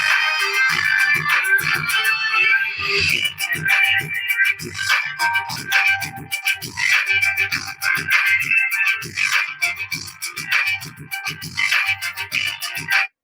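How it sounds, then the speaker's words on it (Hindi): Music from a mobile phone plays through a homemade TIP41C transistor mini amplifier, a steady beat-driven song with punchy bass thumps, fairly loud and continuous. "इस ऑक्स केबल को मोबाइल में लगाएंगे और यहाँ से सॉन्ग को प्ले करेंगे"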